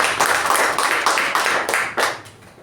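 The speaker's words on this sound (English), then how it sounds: "big round of applause to our president" A small club meeting audience claps for its president, a handful of distinct hand claps in a loose, uneven rhythm, close and moderately loud, fading out after a couple of seconds.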